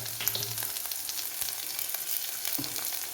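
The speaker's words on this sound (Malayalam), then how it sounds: "ഇനി നമുക്കിതിലേക്ക് കുരുമുളക് ഇട്ട് കൊടുക്കാം" Black pepper goes into a hot frying pan and sizzles while Kerala-style raw banana and bean stir-fry cooks. The crackling fry is steady and close, with a few soft scraping stirs and no talk.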